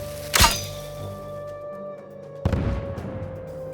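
Two sharp, booming blasts in a stealth video game, the first loud and abrupt followed by a ringing tone and fading rumble, the second a softer burst with a decaying tail.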